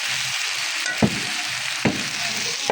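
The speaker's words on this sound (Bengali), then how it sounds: "আজকে শুধু শাকটা ভাজি করি" Leafy greens (about 2 kg of saak) frying in a pan give a steady close hiss, broken by a few soft knocks of stirring, with no voices.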